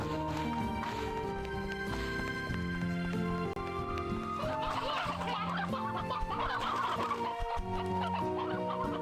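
Chickens cluck repeatedly in Slime Rancher 2, a busy overlapping flock of clucks and squawks over game music, moderately loud and continuous throughout.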